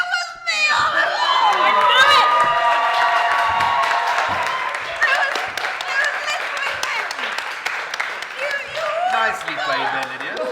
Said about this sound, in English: Can we have another round of applause for our guests on stage today?